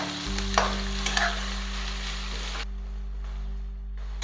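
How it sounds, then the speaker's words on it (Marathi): Onions sizzle and fry in a pan for chicken dum biryani, a steady close hiss with a few stirring scrapes over a constant low hum. "कांदा चांगला गोल्डन ब्राऊन होईस्तोपर्यंत मी फ्राय होऊ देणार आहे."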